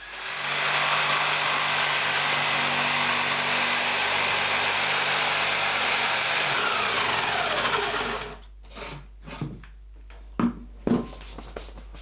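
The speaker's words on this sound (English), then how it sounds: "now I'm going to take my jigsaw and I'll be able to cut down to the edges on both sides" A jigsaw cuts through wood for a small barrel shot glass holder, a steady buzzing drone for about eight seconds that then stops, followed by a few scattered knocks and handling noises.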